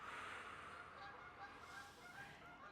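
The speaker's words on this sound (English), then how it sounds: "Can you hear the geese?" Geese honk faintly in the distance during an indoor yoga session, a steady wash of calls that stays low and continuous across the whole stretch.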